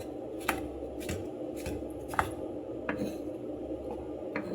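A knife slices through raw pork on a cutting board for kinilaw, giving soft, regular cutting clicks about every half second over a faint background hum.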